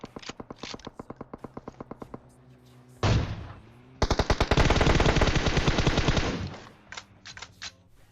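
Automatic and rapid gunfire in the battle royale game PUBG Mobile: dense bursts of shots with short pauses, then a long sustained volley that runs for several seconds, with a loud blast near the middle.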